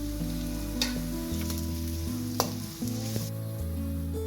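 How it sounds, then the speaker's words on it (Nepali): Chopped onion sizzling in a hot pan for chicken fried rice, a steady loud fry with occasional stirring scrapes and clicks, no talking. "मैले प्याजलाई एकछिन फ्राई गरेँ।"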